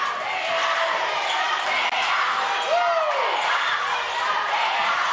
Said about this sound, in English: Crowd is loud.